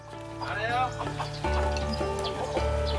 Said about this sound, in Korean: 직접 키우고 있는 토종닭